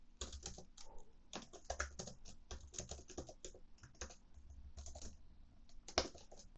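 Rapid C++ code typing on a computer keyboard, with crisp irregular key clicks in quick bursts, close and steady, with no voices.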